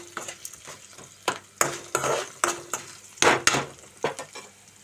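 Onions frying in a pan under a soft sizzle, broken by repeated scraping and clinking of a spatula stirring at an uneven rhythm.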